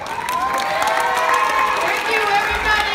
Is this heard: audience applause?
yes